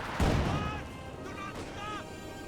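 A pack howitzer firing in Company of Heroes 2, with one loud booming shot followed by a fading rumble and faint battle noise, under a commentator's voice.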